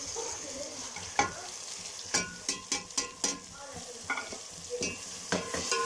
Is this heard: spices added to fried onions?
yes